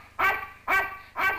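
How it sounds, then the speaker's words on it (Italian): A dog barks three times in an evenly spaced, close and loud sequence from a 1961 Italian film, with each bark sharp and full and no speech alongside. "Said, torna a casa, abbaiando, abbaiando, Said."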